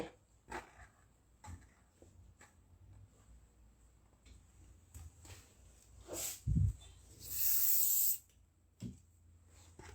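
A short burst of hairspray hisses for about a second, preceded by faint clicks and handling noises in a quiet room.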